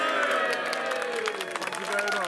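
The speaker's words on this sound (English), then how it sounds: "Can we have a big cheer for Liseberg" A crowd at a Liseberg amusement park roller coaster club event cheers and applauds loudly and continuously, with whoops and voices rising over dense clapping close by.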